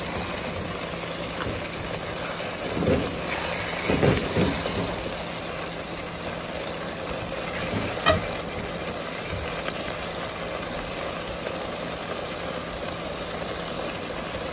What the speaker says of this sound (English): So this is after 3 minutes of sauteing.